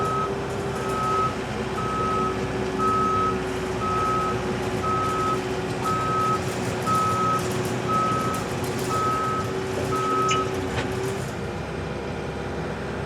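Reversing beeps from heavy equipment driving backwards while a kiln pad is installed, a steady evenly spaced beeping over a continuous loud engine rumble.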